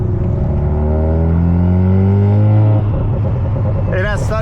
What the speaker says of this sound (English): It has such good turbo noise!